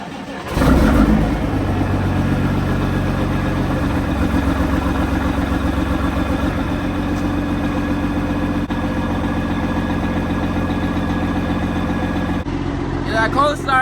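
A Peterbilt 379 truck's 12.7-liter Detroit 60 Series diesel engine fires up from cold and settles into a steady, loud, close idle with a deep rumble, under occasional voices, ending in a brief clatter.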